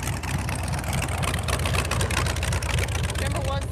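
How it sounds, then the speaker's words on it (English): A big block Chevy engine in a Model A coupe hot rod with straight exhaust stacks idles close by at a dragstrip, a loud, lumpy, pulsing rumble, with muffled voices faintly underneath. "Organ grinder, Model A coupe, big block Chevy, straight exhaust stacks, no windows."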